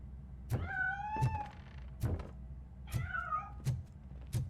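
Cat in the Robocop Rogue City video game, meowing several times in short rising-falling cries separated by pauses, fairly close over low thumping footsteps and background hum.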